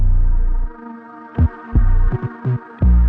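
A deep booming 808 bass plays a syncopated pattern of short hits with a few higher notes, heard alone without drums.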